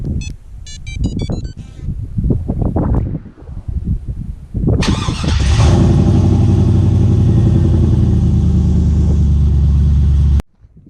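A Chevrolet Silverado pickup running exhaust through headers and a welded Y pipe: brief talk, then the engine fires up into a deep, steady, close rumble that holds for several seconds and cuts off abruptly.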